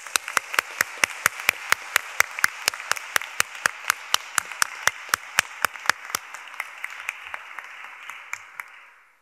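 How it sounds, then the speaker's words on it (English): Graduation ceremony guests clap inside a chapel, a run of crisp, evenly spaced claps close by over softer scattered applause, thinning out and fading to silence near the end. "Round of applause, I think."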